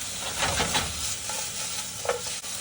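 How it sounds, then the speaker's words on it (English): Fajita vegetables sauteing in a hot pan, a steady close sizzle with soft stirring scrapes and a couple of brief clinks, alone without talk. "Heat them up. Saute the veggies."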